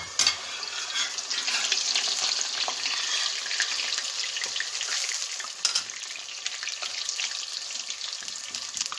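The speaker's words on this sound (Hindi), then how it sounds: "ऑयल बिल्कुल गर्म हो चुका है कढ़ाई में और ये देखें मैं रोटी इसमें अब ऐड करने जा रही हूँ" Papdi dough rounds fry in hot oil in a kadhai for papri chaat, giving a steady, loud, close sizzle that bubbles on without pause and with no voices.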